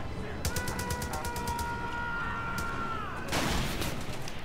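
Gunfire in the video game Far Cry 5 during co-op play, a rapid burst of automatic shots followed by a louder blast, fairly faint beneath game ambience.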